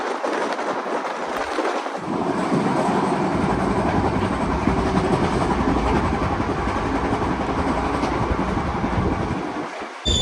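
A passenger train from Kolkata to Deoghar rolls steadily along the rails, its loud, continuous clickety-clack and carriage rumble heard from inside, after a brief quieter start, with no voices.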